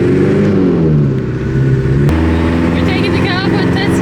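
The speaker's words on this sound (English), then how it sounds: "We're taking the car for a test drive." A 1995 Toyota Hilux LN107 with a 2.8L diesel engine drones steadily from inside the cab during a test drive on steep roads around Gympie. A gear change comes partway through, and people talk over the engine noise.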